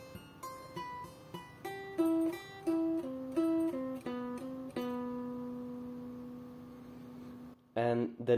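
A 7-string guitar plays a quick tapped lick, a run of crisp, clearly separated notes that ends on a long sustained tone, followed by a short burst of other sound.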